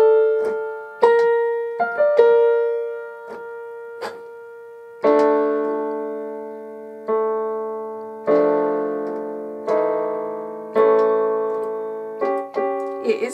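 Solo piano plays the right-hand melody of the Pirates of the Caribbean theme, a series of struck notes and chords in uneven phrases with brief pauses between them, clear and close with no talking.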